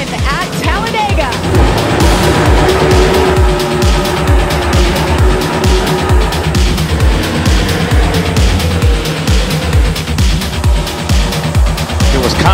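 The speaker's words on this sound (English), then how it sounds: "Green flag is in the air. We're racing at Talladega." NASCAR race cars racing at Talladega: a dense, loud roar of many engines droning on steadily, with a commentator talking over it throughout.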